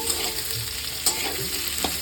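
Potato pieces fry in oil in a pan for a poppy-seed snake gourd dish, a loud, close, continuous sizzle with a few faint utensil scrapes and no voices.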